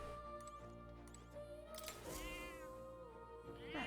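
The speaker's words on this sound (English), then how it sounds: "Hello, cat." A cat meows in the video game Metaphor: ReFantazio, a couple of drawn-out rising and falling mews over a soft, steady game music bed, fairly quiet with no speech.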